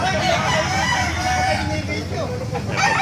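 A pumpkin sweater gamefowl rooster crows amid a busy poultry market in Baliuag, with voices chattering throughout and other birds in the background.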